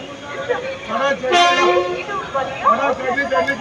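A passenger train bound for Central sounds a short horn blast as it departs Palakkad, heard over someone talking close by amid ongoing train noise.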